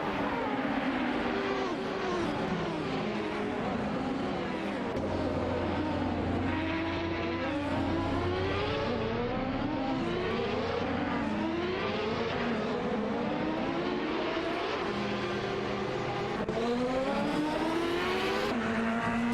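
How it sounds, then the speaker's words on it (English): Several racing cars roar past in an AI race, their high engine notes whining and sweeping up and down through gear changes, overlapping continuously and loudly with no pause. "Racing car dashing away."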